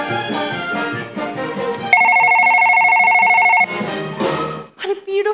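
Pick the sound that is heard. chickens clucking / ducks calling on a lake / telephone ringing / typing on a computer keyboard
telephone ringing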